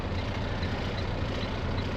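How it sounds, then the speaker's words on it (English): A garbage truck approaches on a rural road: a steady, dense low engine rumble with broadband road noise, continuous and fairly loud throughout, with no talking. "the garbage truck coming."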